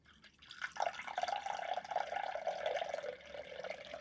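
Tea pours from a teapot into a cup in a steady gurgling stream. It is close and moderately loud, starts after a brief pause and runs on without a break.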